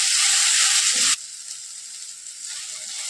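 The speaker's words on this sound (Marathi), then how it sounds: "त्यानंतर घेतलेलं आलं आणि लसूण आणि हे चांगलं मऊ होईपर्यंत आपल्याला हे परतून घ्यायचं." Onion, tomato, ginger and garlic sauté in a pan, giving a loud hissing sizzle that suddenly drops to a quieter, steady fry after about a second.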